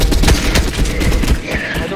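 Rapid bursts of loud close gunfire from the battle royale game Fortnite, several sharp shots in quick succession easing off toward the end, with voices talking underneath.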